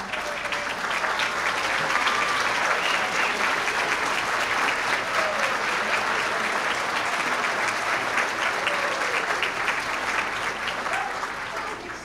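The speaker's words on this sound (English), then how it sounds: "can we stand up and really give them a big round of applause on this evening?" An audience at a high school summa cum laude ceremony gives a standing ovation to honor students, with loud, dense, sustained clapping that fills the whole stretch and tapers slightly at the end.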